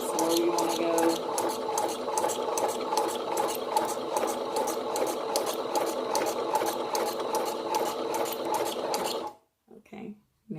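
A sewing machine stitches steadily at close range with a rapid, even mechanical clatter that stops abruptly near the end, leaving a few faint clicks.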